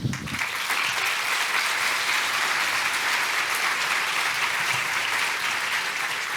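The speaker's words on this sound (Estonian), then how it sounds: "Aitäh ja aplaus!" Steady audience applause at a studio talk show, dense and continuous clapping from a crowd at close range, lasting throughout with no speech over it.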